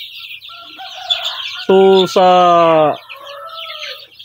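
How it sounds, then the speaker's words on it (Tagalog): A flock of native Zampen chickens on a farm: soft clucks and chick peeps with a loud rooster crow in the middle, close and clear, while someone talks quietly at the start. "So ayan, no, yung mga sisiw natin."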